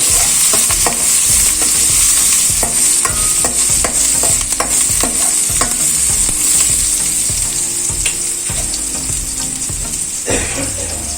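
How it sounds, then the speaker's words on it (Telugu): A spoon scrapes rhythmically through lentil and fenugreek leaf curry in a pan after asafoetida is added, repeated stirring strokes over a steady sizzle, close and loud with no talking. "ఇప్పుడు ఇందులోకి ఇంగువ కూడా యాడ్ చేస్తున్నాను. ఇవన్నీ కలిసేట్టుగా బాగా మిక్స్ చేసుకోవాలి."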